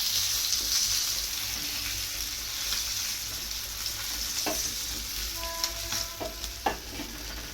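River fish frying in a pan, a constant close hiss of oil that holds steady throughout, with a few soft clinks and stirring knocks toward the end and nobody speaking.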